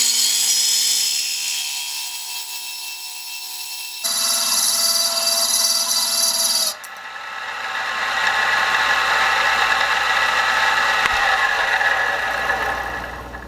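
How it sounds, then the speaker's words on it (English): A power tool cutting steel whines with a harsh high buzz that shifts pitch in two abrupt steps, then gives way to a rougher, grinding rattle after the tool's shank snaps under the torque. "the torque of cutting steel caused the shank to just completely snap"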